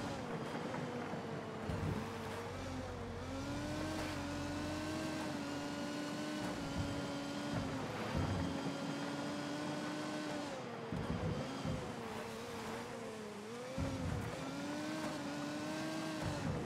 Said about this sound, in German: Vor allem mit so einer Karre hier durch den Staub